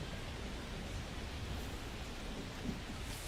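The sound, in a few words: rain falling on field in MLB The Show video game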